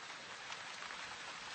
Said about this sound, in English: got caught in the downpour there, Mr. Mortlake?